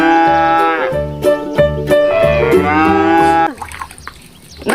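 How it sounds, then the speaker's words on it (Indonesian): A cow moos loudly in repeated drawn-out calls, with rhythmic thumping musical accompaniment beneath, ending in a brief noisier splashing tail. "Wadidaw, keluarlah hewan sapi."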